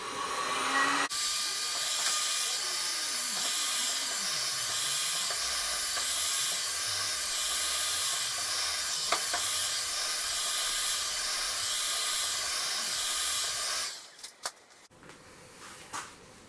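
A heat gun blows steadily on a hard seal on a vintage 1973 Skiroule RT 440 snowmobile axle, giving a continuous close airy hiss and fan whir that cuts off near the end, leaving faint clicks and handling noises.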